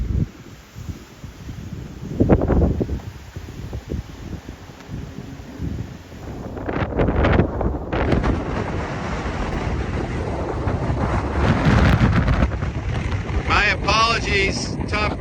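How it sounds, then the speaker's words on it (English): Gusty wind, strong enough to blow over heavy barrels, buffets the microphone with low rumbling roars, rising and falling and growing stronger in the second half, with faint voices underneath. "How windy is it? Windy enough to blow over these heavy barrels."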